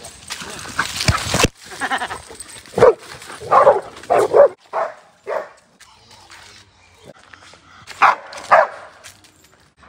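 A dog barks in short, loud bursts, several of them spaced across a few seconds, with a harsh noise near the start and a brief word spoken in between.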